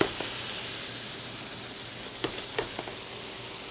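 Sauce and mushrooms sizzle steadily in a hot pan for steak Diane, a constant close frying hiss with a few soft stirring clicks and taps near the end.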